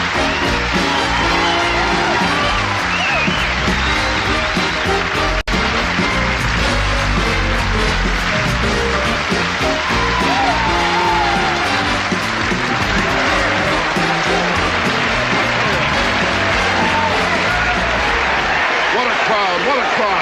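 A studio audience at a Rodney Dangerfield comedy special cheers, whoops and applauds loudly, with a dense, continuous roar of crowd noise for about twenty seconds and voices shouting over it.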